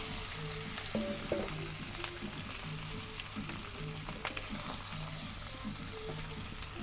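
Beef from a Qurbani cow frying in oil for Bangladeshi kala bhuna, a steady close sizzle with scraping stirring strokes recurring in a regular rhythm throughout.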